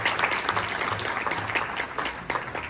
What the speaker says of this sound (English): Please give another big applause for all the speakers